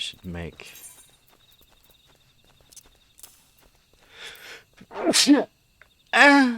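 A single sharp human sneeze bursts out near the start, with quiet footstep-like taps and soft movement after it, and a voice speaking briefly later.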